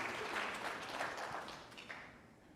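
Applause from a debate audience at a 2019 Canadian federal election debate, a dense steady clapping that fills the clip and fades slightly toward the end, with no speech over it.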